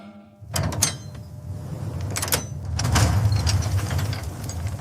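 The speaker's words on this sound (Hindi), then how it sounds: "दरवाजा एक भारी चीख के साथ खुला।" A heavy iron dungeon door grinds and thunks open in a cell block, with low rumbling scrapes and a few sharp metallic clanks over a steady dark drone.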